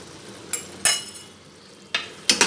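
Pumpkin sabzi with garam masala, cooked over a low flame, is stirred with a spoon in short scraping strokes over a soft sizzle, four distinct bursts close by with no one speaking.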